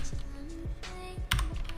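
Keys clatter on a computer keyboard as a Linux package-manager command is entered, a quick run of close, crisp clicks and thumps ending with a heavier keystroke, with no speech over it.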